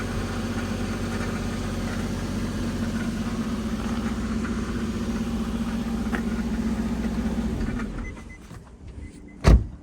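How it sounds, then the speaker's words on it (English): Mercedes-Benz G-Wagon with its check engine light on idles with a steady low hum that sounds slightly off, then fades out near the end, followed by a sharp knock. "Motor sounds a little funny."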